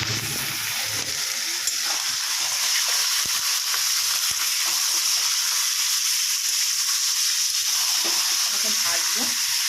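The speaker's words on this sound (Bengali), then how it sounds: "মাংসটাকে ভালো করে ভেজে নেবো। পেঁয়াজের সঙ্গে।" Meat fries in oil with onions, a loud, continuous close-up sizzle with occasional stirring scrapes and crackles throughout, no voices.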